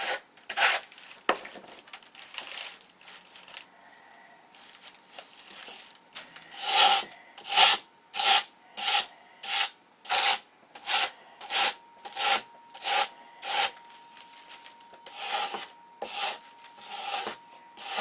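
A sheet of sandpaper rubs over a piece of balsa wood. Scattered scrapes give way to a steady run of rhythmic back-and-forth rasping strokes, close and fairly loud, with no voices.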